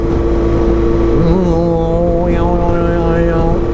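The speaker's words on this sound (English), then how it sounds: "Yeah, the sound your tyre makes. Different treads make different sounds." A constant whirring, churning hum of tyres rolling on pavement under a running motorbike engine, steady and loud with shifting tonal whines.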